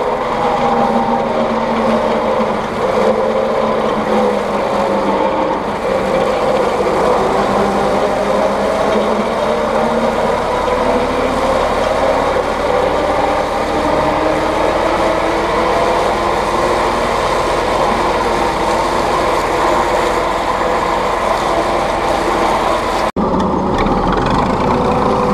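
A Bizon combine harvester engine runs at a loud, steady, rough rumbling drone for over twenty seconds, close to the listener, and the sound cuts off abruptly near the end.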